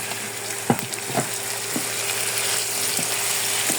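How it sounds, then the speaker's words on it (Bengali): Beef frying in soy sauce in a pan, a loud, steady, close sizzle with a few brief spatula knocks early on and no talk. "মাংসটা যে আমি হালকা ভেজে নিচ্ছি, পুরোপুরিভাবে দেখেন সয়া সস দিয়ে ভেজে নিচ্ছি"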